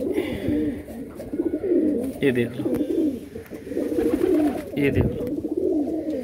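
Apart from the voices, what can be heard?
Madrasi pigeons cooing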